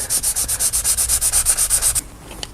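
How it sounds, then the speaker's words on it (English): A sanding pad works over body filler on the rust-repaired windscreen frame of a Lexus LS 400, giving a loud, even run of rhythmic back-and-forth scrubbing strokes for about two seconds before stopping, with no talking. "I'm gonna knock it down with my sanding pad to see where the high and the low spots are"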